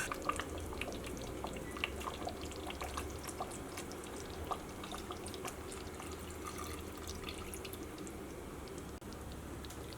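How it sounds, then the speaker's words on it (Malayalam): Thick second-extract coconut milk poured into a simmering Kerala-style chicken curry, a soft steady liquid trickle and dripping running evenly throughout with no voices. "അപ്പോൾ നമുക്ക് 2-ാം പാൽ ചേർക്കാം."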